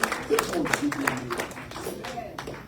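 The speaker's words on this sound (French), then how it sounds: "Avec un grand applaudissement" A church congregation applauds during a French-language service, a loose run of claps from several people beneath a speaking voice, moderate and close.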